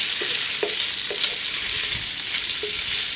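Tofu pieces frying in a pan, a loud continuous sizzle close up with a few soft stirring taps scattered through it.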